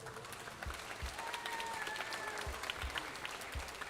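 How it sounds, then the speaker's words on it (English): An audience at a VEX IQ robotics state championship gives a team a steady round of applause, dense clapping filling a large hall, moderately distant. "All right, one more big round of applause for that team."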